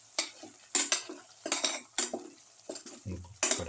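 A spoon stirs and scrapes a cumin, egg and carrot mixture with curry leaves in a cooking pan, giving a run of sharp metallic clinks and scrapes in uneven bursts, close and fairly loud, with no talking.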